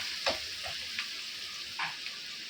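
Bitter gourd going into a pan of softened, lightly browned onions frying in oil, a steady soft sizzle with a few light clicks and stirring taps, no voices.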